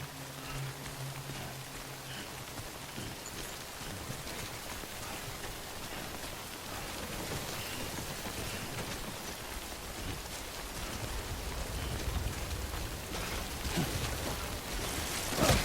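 Rain falling steadily in the video game Death Stranding, a soft continuous patter and hiss on surfaces that grows slightly heavier toward the end, with no voices.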